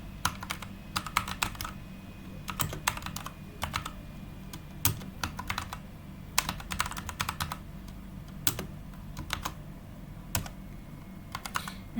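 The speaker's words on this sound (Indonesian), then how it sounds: "Pertama kita ketik dulu ya create table." Typing on a computer keyboard comes through as quick, clicky keystrokes in uneven bursts with short pauses between them. It sounds fairly close but quiet, with no talking.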